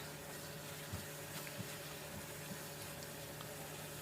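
Zucchini and minced pork stir-frying in a pan without added water, a soft steady bubbling and sizzling wash with a few light clicks of the utensil, close and even, no voices.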